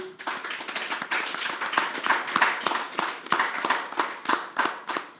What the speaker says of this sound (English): you didn't clap well for them